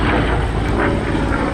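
An FG-1D Corsair piston fighter rolling through a barrel roll at the Aero Gatineau air show, a loud, close, sustained propeller-engine drone with slight swells in intensity.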